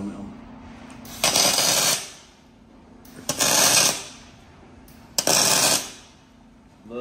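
Tack welding on steel brackets for a heavy-duty JCB machinery mover, three separate crackling, buzzing arc bursts of about a second each with quiet gaps between, close by, and a brief spoken word.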